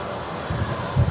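A Qantas Link plane's engine drones at Brisbane Airport on arrival, a low steady rumble with two swelling surges, the second louder, under a constant broadband hiss.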